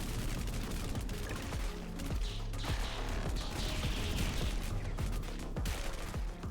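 Rapid video-game gunfire rattles on without a break, dense overlapping shots with mechanical clatter, loud and close throughout.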